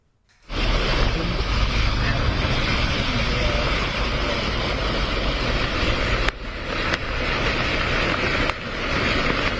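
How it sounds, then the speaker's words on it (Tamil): Rough sea surf and strong wind roar steadily at Chennai's Marina beach during a rainstorm, a loud broadband wash that begins abruptly and continues with only brief dips, no voices heard. "கடல் அலையின் ஆக்ரோஷமும் அதிக அளவில் காணப்படுகிறது"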